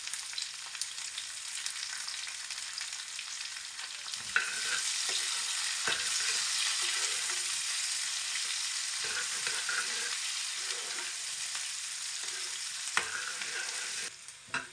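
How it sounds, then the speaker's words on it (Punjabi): Onions fry in oil with browned garlic in a pan for dahi tadka, a loud, steady close-up sizzle running throughout, broken by occasional soft knocks and scrapes of stirring, with no voices. "ਪਿਆਜ਼ ਨੂੰ ਆਪਾਂ ਭੁੰਨ ਲੈਣੇ ਚੰਗੀ ਤਰ੍ਹਾਂ ਬ੍ਰਾਊਨ ਕਰ ਲੈਣਾ"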